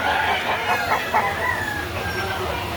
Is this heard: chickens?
yes